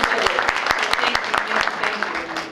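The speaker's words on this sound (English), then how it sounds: "Let's give her a round of applause" Audience applause at a city council meeting, a steady wash of clapping with a few louder individual claps, mixed with scattered voices and cheers that fade slightly toward the end.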